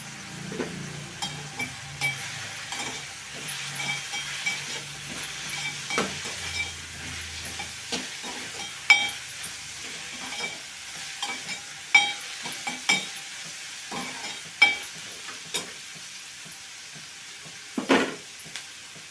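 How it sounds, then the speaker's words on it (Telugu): Curry leaves fry and crackle in hot oil, a steady soft sizzle broken by repeated scraping and clinking stirs of a spatula against the pan, with no talking. "కరివేపాకు వేసుకుంటున్నానండి"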